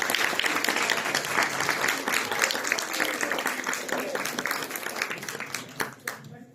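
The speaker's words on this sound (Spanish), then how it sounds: "Así que otro fuerte aplauso, le damos un reconocimiento." An audience at a nutrition and emotional health congress applauds with steady, dense clapping that continues for several seconds and thins out near the end.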